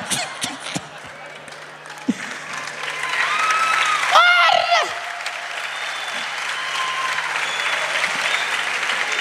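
Audience at a stand-up comedy show in Portugal breaks into loud applause and cheering after a few scattered claps, swelling midway and holding as a steady clapping wash to the end.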